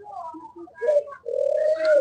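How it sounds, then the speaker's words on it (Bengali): Spotted doves coo on a dove farm, giving soft, low repeated coo phrases in two clear bursts, the second longer and steadier, heard close and alone. "আমার খামারটি এবং আমার পাখির ডাক এবং পাখির সৌন্দর্য।"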